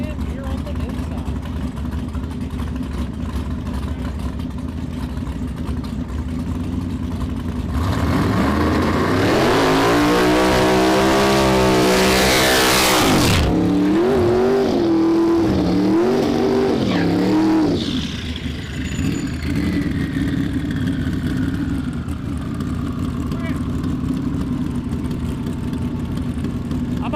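Drag race cars at a no-prep finals event, including a turbo car and a Mustang, idling, then a loud roaring launch that climbs in pitch and fades as the cars pull away into the distance, with crowd and engine noise lingering.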